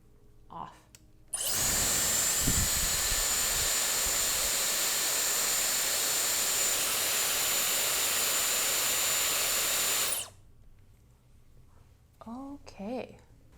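A Dyson-style hair dryer dupe blows hot air on hair in a loud, steady roar lasting about nine seconds, starting and stopping abruptly. Brief speech comes before it and after it.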